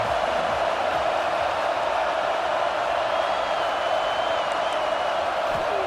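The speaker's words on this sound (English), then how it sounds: "This crowd ready to make its presence known." Stadium crowd in a college football video game, a steady loud roar of massed voices with faint whoops, continuous and close throughout.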